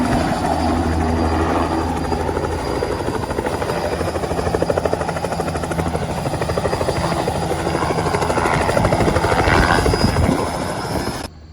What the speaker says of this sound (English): We're getting set up for the helicopter.